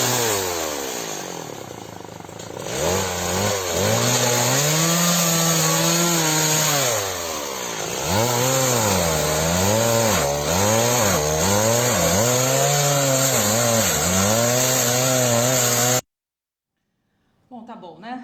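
A chainsaw runs continuously with a revving, wavering whine that rises and falls repeatedly, loud and close throughout, then cuts off abruptly near the end.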